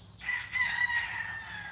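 A rooster crows once at a moderate distance on a farm in the rain, a drawn-out call standing out over a steady background hiss.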